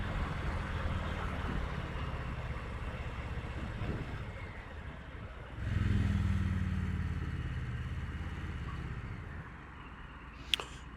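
A 2023 Indian Pursuit motorcycle rides through city streets, its engine giving a continuous low rumble with wind noise that swells as the throttle opens midway, then eases off, ending with a brief sharp click.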